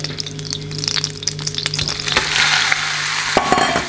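Meat frying in a pan for a dish with white wine, butter and cream, a loud close sizzle with stirring and scraping clatter, building into a steady hiss.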